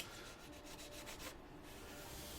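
A blade cutting a bevel into a foam helmet, a soft, faint rubbing drag in one brief stroke, close by and quiet, with no talking.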